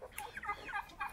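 Faint, quick burbling gobbles of turkeys in a backyard coop, several short warbling calls overlapping in about a second, heard from some distance.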